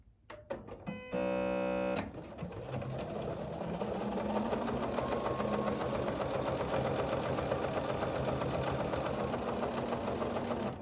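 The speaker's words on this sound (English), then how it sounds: "So I'm going to go ahead and stitch this now." A sewing machine stitches a placemat, a few short clicks and a brief hum before a steady, fast mechanical whir runs on loud and close without pause.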